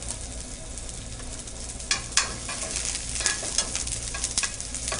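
Red pearl onions sauté in a pan while a spoon stirs them, giving a steady, moderate sizzle with occasional louder scraping clicks and crackles throughout, no talking.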